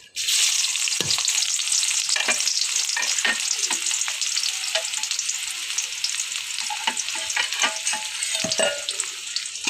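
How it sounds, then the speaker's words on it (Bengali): Chopped onion and garlic hit hot oil in a wok with a sudden loud, dense sizzle that holds steady throughout, broken by frequent scraping and stirring taps of a spatula. "কড়াইতে আমি তেল দিয়ে দিলাম, দিয়ে দিব এখন পেঁয়াজ রসুন কাটা।"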